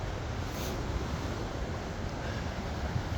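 Ocean waves heard outdoors as a steady broadband wash of surf, blended with wind buffeting the microphone, moderately quiet and continuous with no talking.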